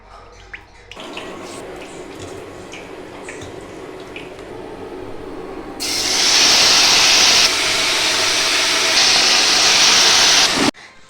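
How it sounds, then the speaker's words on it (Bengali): Marinated chicken pieces frying in hot oil: a quiet sizzle builds, then a loud, bright hiss and crackle surges in as more chicken hits the pan, holding strong before cutting off abruptly. "চিকেনগুলোকে ভালোভাবে তেলে ভেজে নিতে হবে।"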